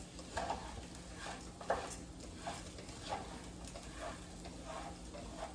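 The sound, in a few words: stirring shrimp and barley risotto in a pan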